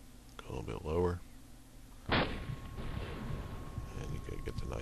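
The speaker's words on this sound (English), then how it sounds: "and you get the nice explosion" In a video game, a sudden sharp blast erupts as a tank is hit after a brief stretch of talking, followed by a lingering rumbling decay with a faint steady tone.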